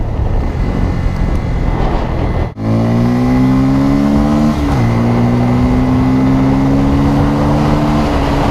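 A Bajaj Pulsar N250 motorcycle accelerates hard, its engine note climbing steadily, then cuts briefly at a gear change and climbs again, with a second shift a couple of seconds later. Loud, close and continuous.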